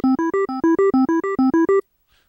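An RPG-8 arpeggiator drives a wavetable synth set to 10 sines through a quick, even run of about twelve bright, clean notes in a repeating rising pattern. The notes stop abruptly into near silence.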